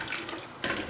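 Water pours in a brief splashing burst into an artichoke sauce near the end, following a low running hiss, close and moderately loud.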